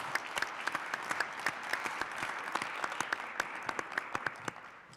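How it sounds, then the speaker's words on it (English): Moderate applause from a conference audience at the opening of a panel discussion on cancer research, a steady spread of clapping with a few sharp, closer claps standing out, heard at a distance throughout. "Can we give them some applause at the beginning of this panel?"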